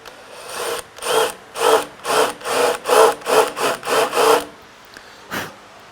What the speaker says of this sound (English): Then I'm going to countersink it, and I'll countersink the other side once I flip it over.